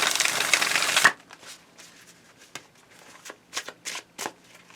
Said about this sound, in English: I love shuffling those Scarabeo decks.